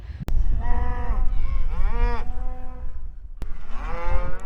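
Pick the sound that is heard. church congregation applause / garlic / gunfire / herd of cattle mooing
herd of cattle mooing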